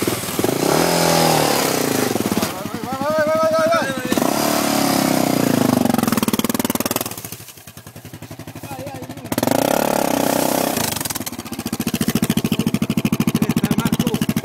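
A motorcycle engine cranks, catches and revs in bursts of rising and falling pitch, with pauses between attempts, loud and close.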